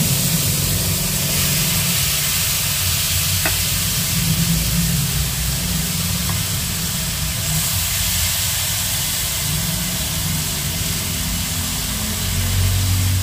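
Goat meat stir-fried without oil in sate maranggi-style spices gives a steady, loud broadband sizzle that hisses continuously, with a faint click or two and no voices.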